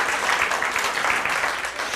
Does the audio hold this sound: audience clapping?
yes